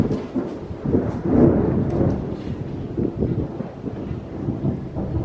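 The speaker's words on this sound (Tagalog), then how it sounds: "Narinig nyo yun? Lakas ng kulog." Loud rolling thunder from a rainstorm at an outdoor garden booth area, a long sustained rumble swelling near the start and continuing steadily with rain and wind noise, no talking.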